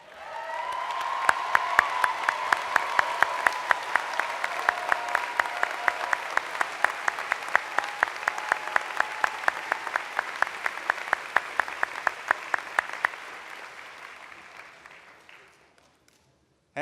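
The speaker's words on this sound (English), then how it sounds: "So could I ask the labor supervisors to stand and receive our applause?" Audience at the 2013 Berea College commencement applauding labor supervisors as they stand, a steady broad clapping that swells quickly, holds for about twelve seconds, then tapers off and fades out.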